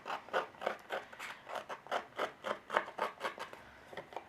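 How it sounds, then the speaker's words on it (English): Quiet, rhythmic rasping strokes, about a dozen in a steady back-and-forth pattern, like scissor blades scraped repeatedly along a card edge, close up. "just carry on rubbing your scissors over it"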